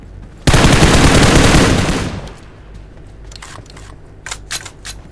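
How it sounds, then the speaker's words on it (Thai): A loud, dense burst of rapid gunfire in PUBG Mobile lasts about a second and a half, then fades, followed by a few sharp, scattered shots. "ได้ยินเสียง ยิงข้างหน้าเลยนะ"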